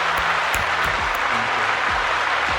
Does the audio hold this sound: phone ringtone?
no